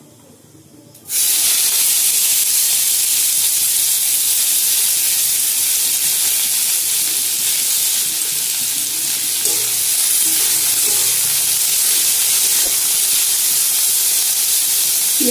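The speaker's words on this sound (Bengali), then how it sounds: "এবার দিয়ে দেবো কুচানো পেঁয়াজ।" Chopped onion hits hot white oil in a wok with a sudden loud sizzle that stays as a dense, steady hiss close up, with faint stirring scrapes under it.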